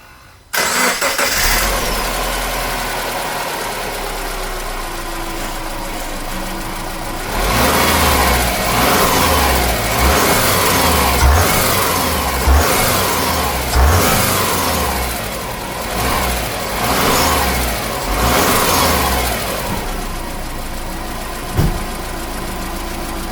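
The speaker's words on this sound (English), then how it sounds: "So I'm going to start the car." A Subaru Impreza 2.0L engine, freshly fitted with a new timing belt, cranks and catches, then settles into a steady idle with a couple of revs, loud and close throughout.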